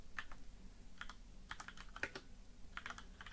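Quiet, irregular keystrokes on a computer keyboard as a command is typed into GDB while debugging an embedded device, a handful of soft clicks in short bursts with no talking.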